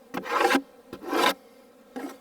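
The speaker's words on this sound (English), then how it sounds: "Again, take your hive tool, scrape it out." Metal hive tool scraping a wooden beehive frame during a hive inspection, three short rasping strokes close to the listener, with bees faintly audible between scrapes.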